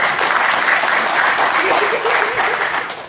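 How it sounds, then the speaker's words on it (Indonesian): An audience applauds a team from Blitar at a launch event, with dense, steady clapping that runs evenly for about three seconds and then tapers slightly at the end. "Oke, aplaus untuk tim Blitar."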